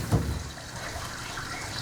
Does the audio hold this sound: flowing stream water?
yes